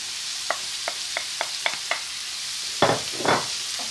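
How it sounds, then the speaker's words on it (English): Whole spices hitting a hot pan for a vegetable curry: a few brief ticking pops at first, then two louder bursts of crackling sizzle, close and with no talk. "Now I'm going to add my whole spices."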